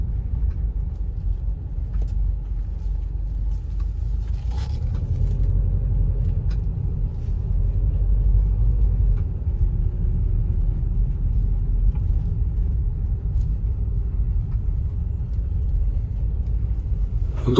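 Steady low rumble of a 2010 Subaru Exiga 2.0 GT AWD MPV cruising at low revs, heard from inside the cabin as a continuous, even drone with road noise and no talking.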